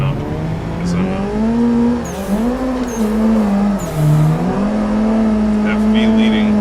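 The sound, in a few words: drift car engine and tires in Assetto Corsa video game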